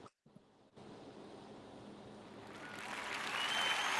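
Applause sound effect played during a live trading stream, a broad wash of clapping noise that swells and grows louder toward the end, with no voices over it.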